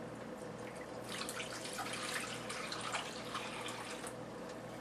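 Water pours steadily into a cooking pan while making buko pandan with gulaman, a soft continuous splashing stream in a quiet kitchen.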